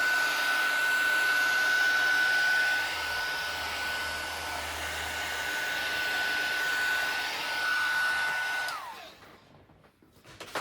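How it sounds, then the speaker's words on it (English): Heat tool blowing hot air over a handmade Valentine card with roses, a steady close whirring rush held for about nine seconds before it cuts off. "I'm going to grab the heat tool and get rid of all my little lines."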